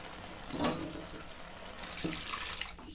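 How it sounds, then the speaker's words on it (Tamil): Water poured from a tap or jug into a pan of mushroom kurma as it cooks, a splashing, running stream with a couple of stronger gushes, close by, with no talking. "இப்போ கொஞ்சம் தேவையான அளவுக்கு தண்ணி மிக்ஸ் பண்ணிக்கணும்."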